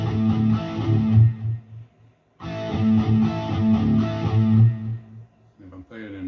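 A distorted electric guitar plays a chugging riff from Cinderella's "Somebody Save Me" in rolling triplets, pauses briefly, then repeats the phrase, loud and close.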